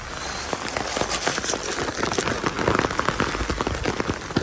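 Heavy rain pounds a nearby surface in a dense, continuous patter, loud and unbroken throughout.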